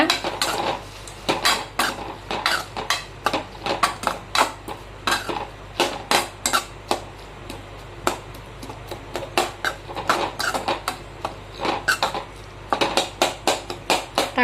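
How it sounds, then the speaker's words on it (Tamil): Metal utensil scraping and clanking against a pan while stirring onion and tomato, in an irregular rhythm, close and fairly loud, with no voices. "இப்போ வந்து எல்லாத்தையும் மிக்ஸ் பண்ணி விடுங்க"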